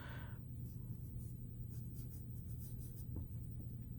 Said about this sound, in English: I'm going to put my name on my paper.